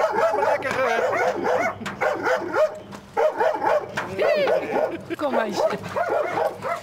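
A Belgian Malinois barks and yips in quick bursts, with whimpers in between, close and loud while people talk over it outdoors.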